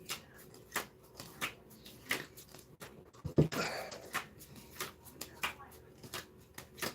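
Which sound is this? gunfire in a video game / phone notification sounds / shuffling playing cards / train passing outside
shuffling playing cards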